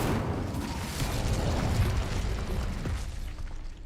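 A fire spell, Incendio, cast in a video game, bursting as a loud whooshing blast that rumbles on for a few seconds and then tapers off slightly.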